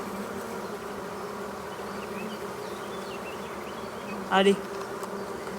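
Honeybees at an apiary during a transfer from a nucleus box to a full hive make a dense, continuous buzzing hum. One voice speaks a brief word near the end.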